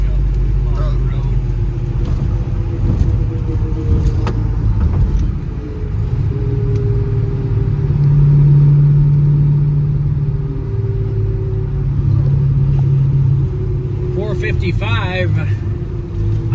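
A 1968 Pontiac LeMans GTO tribute with a 455 engine and five-speed, cruising down the road with a steady low engine drone and wind rumble, while someone talks over it throughout.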